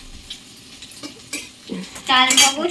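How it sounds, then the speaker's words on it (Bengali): Eggs fry in a pan until browned, giving a soft sizzle broken by clinks and scrapes of a utensil, then a louder burst of sizzling near the end. "এখানে লাল লাল করে ভেজে নেবে ডিমগুলোকে"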